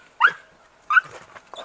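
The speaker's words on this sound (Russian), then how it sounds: "Одна из лучших собак, это самая лучшая собака." A pet hunting dog whimpers twice in short, high-pitched whines about a second apart, close by, followed by softer snuffling and faint whimpering sounds.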